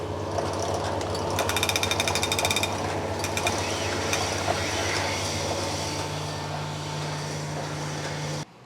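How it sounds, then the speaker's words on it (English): Rough honing of a V8 engine block's cylinders, heard as a continuous loud mechanical grinding drone with a steady hum and a stretch of rapid rattling chatter partway through. "I've finished with the rough hone on the first 4 cylinders here"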